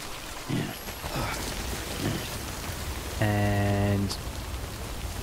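Steady rain hisses through the Death Stranding game world, a continuous broadband wash, with a loud tonal buzzing chime cutting in briefly near the end.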